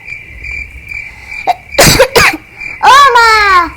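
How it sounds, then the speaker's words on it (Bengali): A sick person coughs in a Bengali comedy skit: two harsh, close bursts, followed by a whining voice, with a steady high chirp in the background. "খুব কাশি হচ্ছে।"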